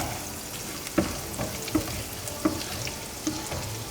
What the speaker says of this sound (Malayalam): അത് നന്നായിട്ട് ഇളക്കി കൊടുക്കുക നന്നായിട്ടൊന്ന് മൂക്കുന്നോടം വരെ